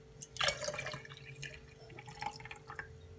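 Water splashes and trickles into a container of lemon juice, a burst of pouring followed by drips and small splashes, close by with no talking.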